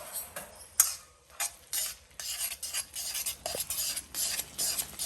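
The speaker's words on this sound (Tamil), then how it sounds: "இதை வந்து கிளற வேண்டியது" A spoon scrapes and stirs thick flour dough for adai in a pot of boiling water in quick irregular strokes, close and clear, with no voices.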